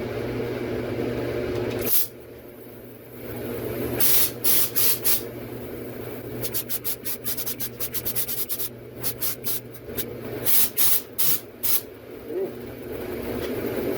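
A spray gun applies rocker guard coating to a truck in bursts of hissing spray, close and loud, with short rapid pulses in the middle and longer blasts near the end.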